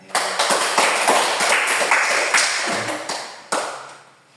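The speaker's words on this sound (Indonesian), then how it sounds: "Tepuk tangan" A class gives a round of applause, many hands clapping in a busy, continuous patter with a few sharper individual claps standing out, close and loud before tapering at the end.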